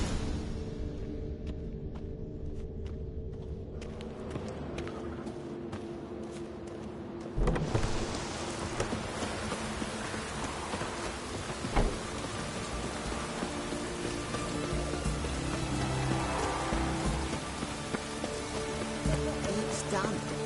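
Steady rain in The Witcher 3 video game patters continuously, growing denser after a thump partway through, a broad hiss filling the scene with no clear voices.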